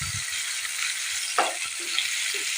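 Sliced onions with bay leaf fry on high flame in a pan for a jackfruit curry, giving a steady, moderate sizzling hiss broken by a few soft stirring scrapes and clinks.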